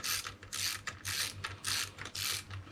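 A ratcheting tool tightens the chain tensioner on a Kawasaki H2SX motorcycle, giving close, repeated bursts of clicking in a steady back-and-forth rhythm.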